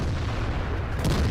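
A single heavy tank gun fires in the World of Tanks game, a deep, booming blast with a rumbling tail that fills the short moment.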